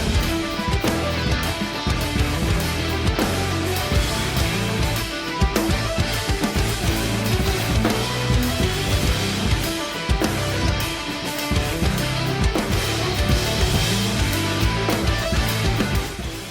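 Kick drum and snare pattern from the outro of a progressive metal song, played with the full band mix, dense and loud throughout with steady driving hits.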